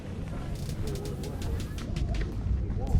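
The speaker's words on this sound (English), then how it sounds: "But these pigeons, man." Pigeons coo softly at an outdoor flea market, low throaty calls repeating under the general murmur and rustle of the crowd.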